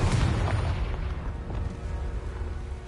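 A Confringo fire spell bursts as an explosion in the Hogwarts Legacy video game, giving a loud, dense boom at the start that rumbles on and slowly fades.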